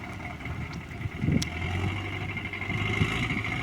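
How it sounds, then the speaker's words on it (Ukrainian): A tractor engine pulls uphill on a muddy road in the rain, a low steady rumble with a faint whine, moderately distant and constant, with no talk. "О, все, йде трактор."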